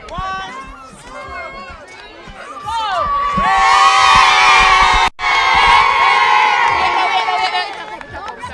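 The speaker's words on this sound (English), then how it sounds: "Give them a big round of applause." A large crowd at school primary netball and football finals bursts into loud, sustained cheering and shouting with applause, rising after a few seconds of scattered voices and children calling out, then holding at full volume with only a momentary dip.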